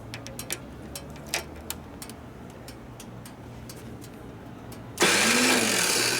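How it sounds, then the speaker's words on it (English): The starter on a 2001 Gilroy Indian motorcycle under rebuild kicks in after a few scattered clicks and ticks, a loud sustained whirring crank that begins abruptly and runs to the end, close by. "See if the starter will work now."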